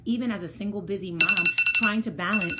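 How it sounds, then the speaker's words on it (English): An alarm clock rings with a bright, pulsing electronic beeping in a quick series of clear tones, heard partly under a woman's continuous speech. "that was my alarm clock"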